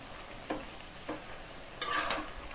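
Cabbage being stirred in a pan with turmeric, chili and coriander powder, a soft fry under a few short scraping strokes and one louder rustling push near the end.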